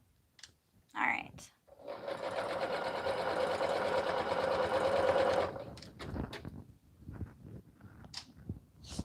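A sewing machine runs in a steady, loud whir for several seconds, stitching a soft minky fur baby blanket, with brief handling noises before and after.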